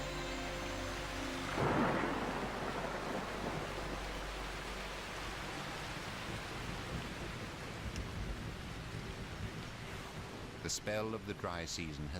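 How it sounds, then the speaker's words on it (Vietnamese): Heavy rain hisses steadily while a deep rumble of thunder rolls early on; a voice speaks over the downpour toward the end. "Từ bây giờ cho đến tháng 9, hầu như ngày nào trời cũng có mưa."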